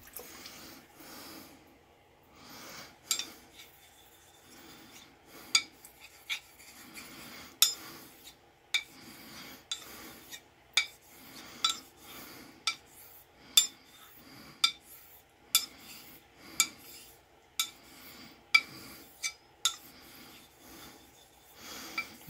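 A knife is honed on a 5K sharpening stone in steady, evenly spaced strokes, each a crisp scraping rasp, about one per second, close and fairly quiet with no talking.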